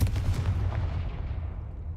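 The Confringo blasting spell goes off in Hogwarts Legacy: a single sharp, booming burst close by that rolls away into a fading rumble over about two seconds, with no talking.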